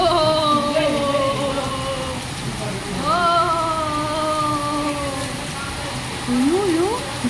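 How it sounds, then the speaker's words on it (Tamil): Heavy rain pours steadily outdoors as a constant dense hiss, with voices singing and talking over it throughout. "இப்படி ஒரு மழையை எதிர்பார்க்க இல்லையே"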